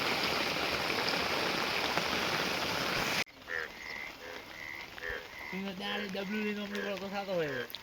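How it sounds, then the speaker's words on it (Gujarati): Rainwater rushes along in a steady, loud flow for about three seconds during heavy rain, then the sound cuts to frogs croaking close by while a person speaks. "આ જો પાણી આવે છે."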